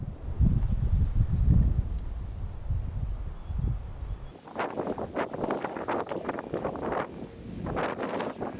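Wind blows across a microphone outdoors during Colorado elk archery preparations, heavy low rumbling gusts at first, then lighter rustling and buffeting; no talking.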